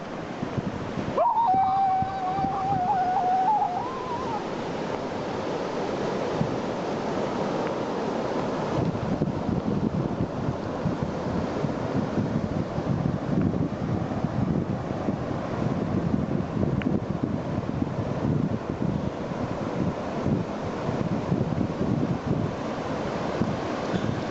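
Ocean surf rolls steadily on the Costa Rica coast, with strong wind buffeting the microphone throughout. The roar is loud, continuous and close, and a brief faint whistling tone sounds near the start.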